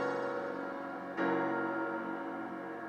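An extended chord with a suspended fourth and a seventh in a trap/rock song, sustained and ringing, then struck again midway and left to decay, clear and alone without voices.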